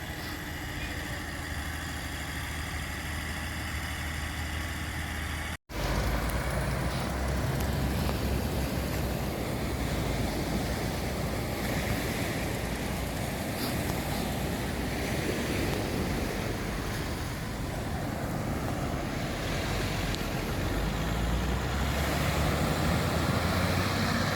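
Ocean breakers pound the shore at Saint Lucia as a fishing boat waits to launch through the surf, a continuous loud roar of crashing waves mixed with wind, broken by one brief dropout.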